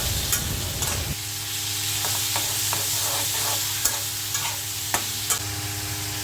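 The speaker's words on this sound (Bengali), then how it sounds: "পেঁয়াজের সাথে চিংড়ি মাছটাও ভেজে নেব" Prawns fry with sliced onions in a pan, a loud continuous close sizzle with repeated spatula scrapes and taps against the pan, no voices.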